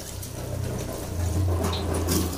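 Water poured onto potted plants in hot weather, a steady close splashing and trickling flow that swells slightly and continues without talk.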